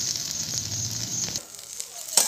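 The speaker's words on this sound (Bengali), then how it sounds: "ভেন্ডিটা আমার প্রায় অনেকটাই ভাজা ভাজা হয়ে এসছে" Okra (bhindi) frying in a pan makes a steady close sizzle with a low rumble that drops out partway, leaving a fainter hiss and a short clatter at the end.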